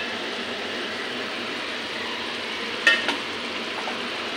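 Fried pabda fish goes into a simmering tomato gravy in a pan, giving a steady hiss with a brief sharp clatter and sizzle burst partway through. No one speaks.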